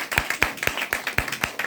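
Audience at a physical meeting claps in a steady, rhythmic beat, single sharp hand claps evenly spaced about four times a second, close and clear with no talk.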